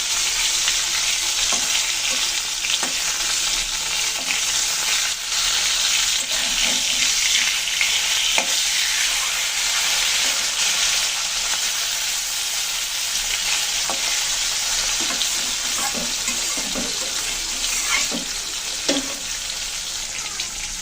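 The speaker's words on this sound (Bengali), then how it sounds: "মাছটা সুন্দর করে ভেজে নিলাম" Small puti fish fry in oil in a wok, a steady dense sizzle with intermittent pops and spatters as the pieces cook, loud and close with no talking.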